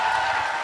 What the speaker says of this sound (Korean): 여기서 박수가 멈추면 안 되는